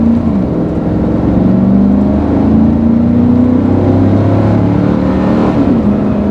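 A Cadillac Escalade ESV from the 2007–2014 third generation, with a 6.2-liter V8, produces a loud, close, continuous engine rumble that rises and falls slightly in pitch as it revs, with no talking.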